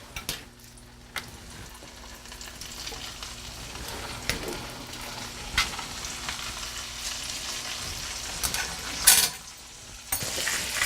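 Food sizzles and crackles steadily in a heated pan, a soft continuous frying hiss with occasional clicks and utensil knocks, fairly quiet and close.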